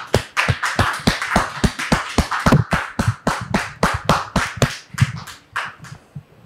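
Audience clapping in irregular, distinct hand claps, fairly close and sparse rather than a dense roar, tapering off toward the end, with no talking.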